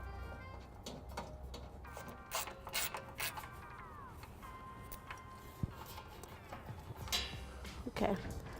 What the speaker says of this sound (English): I'll be using a socket wrench with an 8mm to remove the 3 bolts on each side